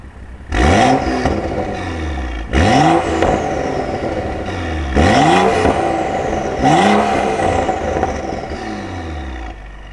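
A BMW N55 engine revs repeatedly through its exhaust, with four sharp rising blips separated by brief drops back toward idle, loud and close with a raspy, whirring tone.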